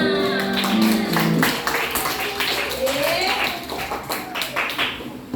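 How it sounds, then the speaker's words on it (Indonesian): A class of pupils clapping hands in a classroom lesson, a burst of quick claps mixed with children's voices and a teacher talking, tapering into scattered claps near the end. "tepuk tangan buat kita semua"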